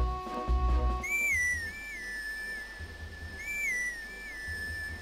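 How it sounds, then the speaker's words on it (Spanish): A clear whistle from a horse-calling instrument in the video game Zelda Twilight Princess, a bright warbling melody sounding twice over soft game music and footsteps. "vamos a utilizar el silbato para llamar al caballo"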